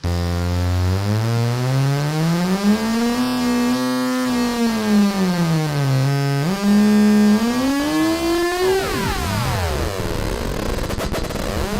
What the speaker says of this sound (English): That sound you're hearing is called heterodyning.